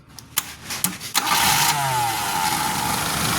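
Suzuki Forsa car engine cranked by its starter: a few short stuttering cranks, then the engine catches and settles into a steady, loud idle, close by and with no talking.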